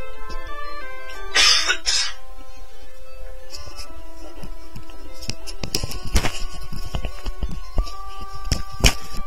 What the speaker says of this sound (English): I move away from the mic to cough.